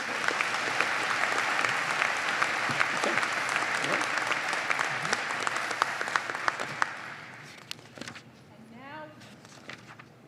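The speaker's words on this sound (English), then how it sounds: "One more big round of applause as we continue." Big, steady applause fills a university graduate commencement ceremony, then fades over the last seconds as a speaker's voice begins.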